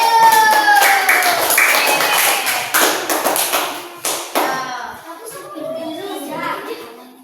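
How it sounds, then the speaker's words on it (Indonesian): A primary school class claps for a group about to present, loud and close, in uneven bursts of hand claps and taps with children's voices calling out over and after it. "kita kasih tepuk tangan dulu"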